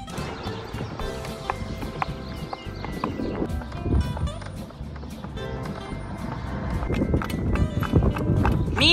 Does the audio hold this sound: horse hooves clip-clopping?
yes